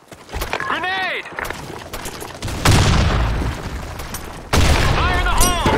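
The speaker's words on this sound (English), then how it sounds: "Grenade!" A grenade blasts in the Blackshot shooter game amid heavy gunfire, loud booms and bursts of shots following one another closely, with short game voice lines in between.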